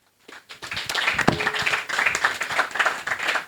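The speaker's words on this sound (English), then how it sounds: "We can have a round of applause to everyone." After a short silence, audience applause breaks out at an innovation summit, quickly swelling into steady, close clapping that carries on to the end.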